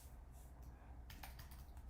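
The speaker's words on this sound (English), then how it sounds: "This is gonna be weird typing on this too" Someone types on a computer keyboard, a quiet patter of key clicks that grows busier in the second half, with no talking over it.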